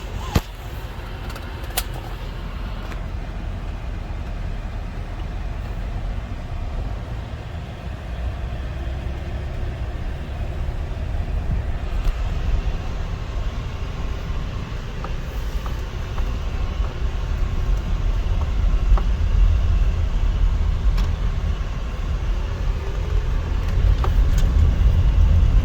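Interior of a 1998 Dodge Grand Caravan SE minivan on the move, a steady engine and road drone with wind and tyre rumble that builds slightly as it gathers speed, with no talking.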